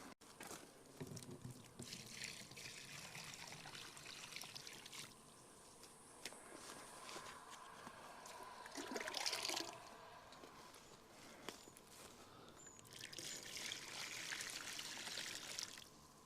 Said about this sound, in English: So I'll fill this up with water now.